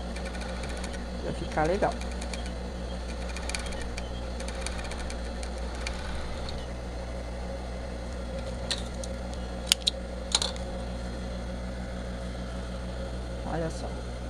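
A sewing machine hums steadily as it stitches a wireless bra with side reinforcement, running continuously at close range beneath someone speaking Portuguese, with occasional small clicks and fabric handling.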